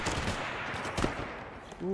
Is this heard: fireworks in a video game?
yes